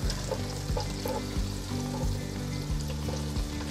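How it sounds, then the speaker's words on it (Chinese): Dumplings deep-frying in hot oil, a steady close bubbling sizzle with faint low hum beneath, continuous throughout without any talk. "来放进热油里面炸，先炸5个。"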